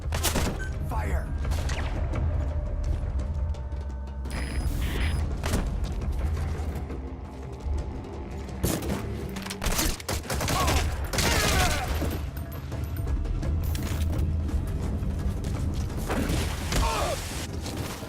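Rapid bursts of gunfire and booming impacts in Metal Gear Solid V crackle loudly in clusters over a steady game background, with voices speaking intermittently.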